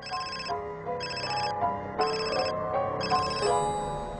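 A phone ringtone chimes in repeated bursts, a melodic electronic ring pausing briefly between each cycle, moderately loud and clear with no voices.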